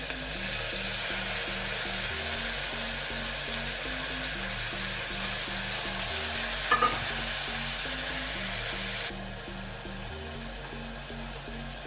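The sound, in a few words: green chilies and tomatoes added to frying garlic, sizzling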